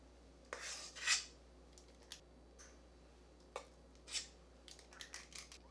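A spoon scoops thick coconut-flour pumpkin muffin batter into a muffin tin, giving faint, scattered clinks and soft scrapes against the metal in an otherwise quiet kitchen.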